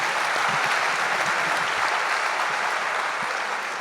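Audience applause fills the room after a talk, a dense, even roar of many clapping hands, sustained and steady for several seconds at moderate distance with no speech over it.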